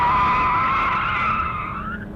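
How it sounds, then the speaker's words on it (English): All-season tires squealing loudly on a Scion FR-S at a track, a sustained high-pitched screech held steadily for about two seconds with engine rumble underneath, fading slightly toward the end. "These are squealy tires. These all seasons are really loud and understeer terribly."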